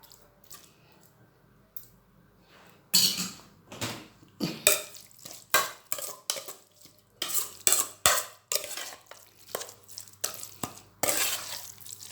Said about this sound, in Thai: เดี๋ยวคนให้เข้ากันค่ะ